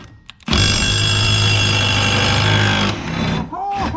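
Small Milwaukee power tool on a farm, a loud buzzing whir that starts abruptly, runs for about two and a half seconds, then stops, with a voice briefly following.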